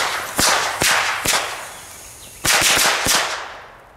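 Sharp firecracker bangs pop off in two bursts, three loud cracks, a pause, then a quick cluster of five or six, each snapping out close by.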